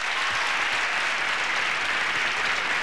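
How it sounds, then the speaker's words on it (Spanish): Audience applause welcomes Alberto Tapia onto the stage, a dense, steady wash of many hands clapping at full level throughout, with no voices rising above it. "Un fuerte aplauso para Alberto Tapia."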